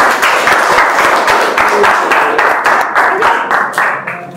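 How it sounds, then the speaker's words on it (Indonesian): Students in an Indonesian classroom clap together, a close, loud burst of many hands that goes on for about four seconds, settling into a more rhythmic beat and then thinning out toward the end. "Ya, kasih tepuk tangan."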